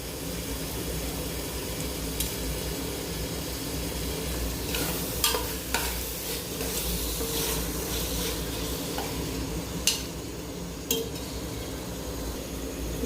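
Tomatoes sautéing in a pan for vegetable rice give a continuous hiss of frying, broken by several sharp clinks of a utensil against the pan as they are stirred, with no voices.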